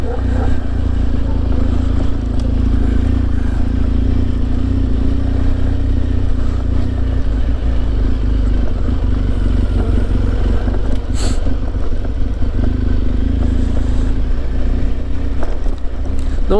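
Steady, loud engine drone of a motorcycle on a road in Bulgaria, with heavy wind rush throughout and no talking.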